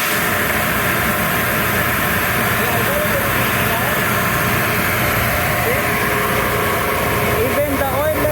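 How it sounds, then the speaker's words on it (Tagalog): Ship's rudder steering gear hydraulic pump number 1, electric motor running with a steady loud hum and whine in an engine space, with faint intermittent squeaks. "So this is our steering gear pump number 1."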